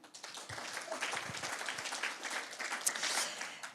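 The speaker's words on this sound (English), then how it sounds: "So we are applauding Marian." At a synagogue annual meeting, an audience applauds Marian with steady, moderately quiet clapping that builds slightly and carries through to the end.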